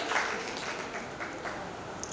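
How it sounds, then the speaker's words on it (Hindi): An audience at a poets' gathering during a writers' festival breaks into applause, a dense, even wash of many hands clapping that fills the room without any talking. "तालियों के साथ हम इस गौरवशाली क्षण का स्वागत करें"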